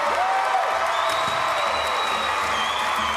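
Crowd at a Paralympic powerlifting event applauding and cheering after a Venezuelan lifter's attempt, a steady wash of clapping and voices filling an arena, with a faint whistle-like tone above it.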